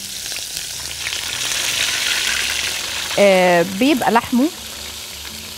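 Pieces of fish sizzle steadily in olive oil in a pan, a continuous close-up hiss and crackle under someone speaking Arabic, with her voice rising over the frying toward the end.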